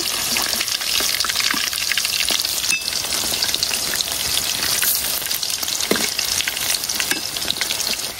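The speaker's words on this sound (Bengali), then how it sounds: "পাকুড়া গুলা একটা সাইজ ভাজা হয়ে গেছে, এখন আমি আবার উল্টাই দিতেছি।" Steady crackling sizzle of cauliflower pakoras in gram-flour batter frying in hot oil, with occasional soft clinks and stirring sounds, no voices.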